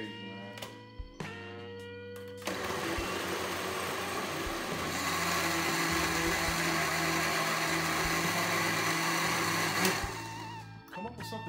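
A kitchen blender whirs loudly and steadily for about seven seconds while making jalapeno crunch bison burgers, bracketed by brief clattering and handling noises before and after.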